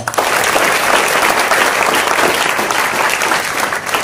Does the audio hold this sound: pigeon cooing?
no